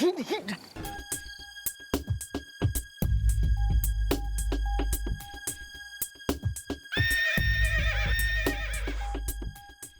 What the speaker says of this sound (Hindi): सुन ले हिनहिनाहट, सुन ले हिनहिनाहट सुनी थी।